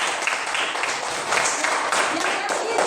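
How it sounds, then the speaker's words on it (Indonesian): Classroom audience applauding for a presenter named Fiona, a dense burst of clapping that stays loud and steady for a few seconds with slight swells. "Oke, tepuk tangan untuk Fiona."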